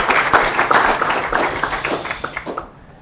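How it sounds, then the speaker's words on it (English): An audience at a tech conference talk applauds the incoming speaker, a few seconds of scattered, lively clapping that thins out and stops near the end. "big applause, please"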